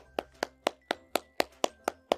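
Nine evenly spaced hand claps ring out alone at a steady, moderate pace, crisp and close.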